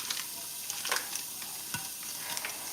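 Pork chops frying with butter and juices in a large pan, a steady soft sizzle running throughout with a few light stirring clicks and scrapes, close and moderately quiet with no talking.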